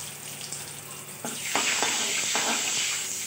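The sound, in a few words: mustard seeds, dried chilli and turmeric tempering in hot oil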